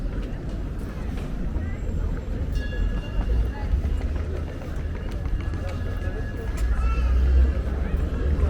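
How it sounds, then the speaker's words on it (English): A small sightseeing tourist train rumbles past nearby in Brasov, Romania, over a murmur of crowd chatter and voices, its low rolling noise swelling toward the end. "There's a little train you could take to do some sightseeing."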